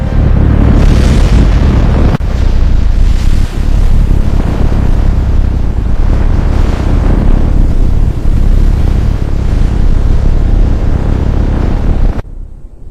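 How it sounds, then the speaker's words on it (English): A rocket engine ignites and launches with a loud, sustained, broadband roar that rumbles continuously at close range for about twelve seconds, then cuts off abruptly. "Ten, 9, 8. 7, 6, 5, 4, 3, 2, 1, ignition."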